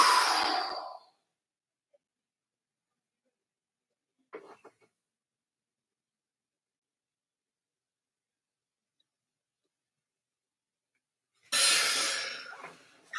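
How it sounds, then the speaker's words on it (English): A long forceful exhale empties the lungs for a trachea stretch during freedive breath-hold training, followed by near silence, a faint rustle midway, then a second strong breath. "So breathing out."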